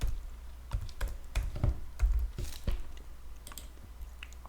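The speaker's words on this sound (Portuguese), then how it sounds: "Então vamos digitar aqui no book." Keys clack on a computer keyboard as a real estate fund ticker is typed into a trading order book, a series of sharp clicks in uneven clusters, close and clear with no talk.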